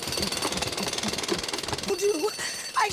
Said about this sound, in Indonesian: Dan bahkan bor mesin pun tidak mampu membobol celana besi Merian.